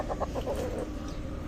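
Rooster clucking in a series of short, repeated calls close by, with a loud, steady background noise running underneath throughout.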